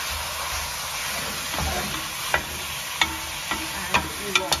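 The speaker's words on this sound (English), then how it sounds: "you want to get the lamb so that you can get it brown and get it mixed with the onion and the butter" Lamb browns with melted butter and onion in a slow cooker pot for Lancashire hotpot, a steady soft sizzle running throughout, broken by several sharp scraping clicks of a utensil stirring near the end, close and without voices.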